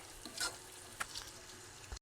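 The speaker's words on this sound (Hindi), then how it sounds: "अभी इसको अच्छी तरह से भून लूँगी" Chickpea and tomato masala for Lahori cholay fries in ghee with a quiet, even sizzle and a couple of light stirring clicks, cutting off abruptly at the end.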